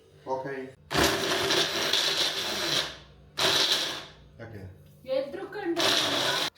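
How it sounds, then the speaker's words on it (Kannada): Kitchen mixer grinder grinding chicken into a paste, several loud whirring bursts that start and stop abruptly, with a person talking in the pauses between runs. "ಚಿಕನ್ನೆಲ್ಲ ಮಿಕ್ಸಿಗೆ ಹಾಕೊಂಡು ರುಬ್ಕೊಂಡೆ"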